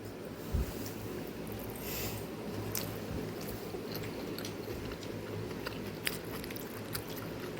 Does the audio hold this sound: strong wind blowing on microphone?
no